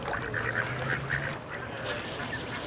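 Geese honk repeatedly inside a game in Ohio, a rhythmic run of nasal calls over a steady background bed, moderately loud and fairly close, with no talking over them.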